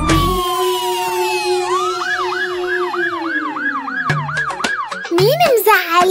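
A wailing police siren sweeps up and down repeatedly, loud and close, in a cartoonish children's song with other tones layered around it.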